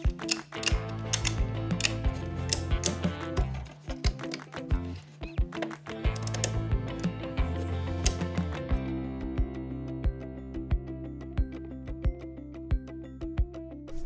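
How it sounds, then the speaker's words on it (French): A ratchet strap is tightened by its ratchet mechanism, a close, loud run of sharp clicking pawl strokes in repeated bursts, settling into evenly spaced single clicks toward the end. "Gardez ensuite la sangle bien serrée et parallèle, après quoi vous pourrez commencer à serrer la sangle"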